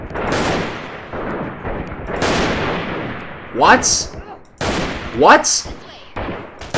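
Gunfire in the video game Freeman Guerrilla Warfare comes as loud, booming shots spaced a second or so apart, each with a long rumbling tail, while someone talks between them.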